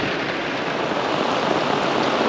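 Heavy rain pours down during a storm beside Taal Lake at a minivan campsite, a loud, steady, unbroken hiss with no pauses.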